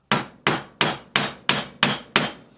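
Seven sharp, evenly spaced hammer blows drive a nail into a wooden beehive roof, each strike a loud close crack with a short ringing decay, about one every third of a second, no voices.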